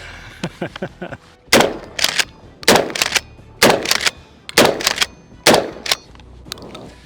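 An FN Tactical Police pump shotgun fires slugs outdoors, five loud, sharp blasts spaced about a second apart with pump-action clacks between, preceded by several lighter clicks and handling noises.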